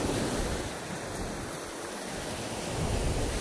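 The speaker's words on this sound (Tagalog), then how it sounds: "Hindi naman kalakihan ng alon, kaya lang hangin" Sea waves wash onto the shore with a steady, broad roar while wind buffets the microphone, a constant rushing noise through the whole stretch with no voices.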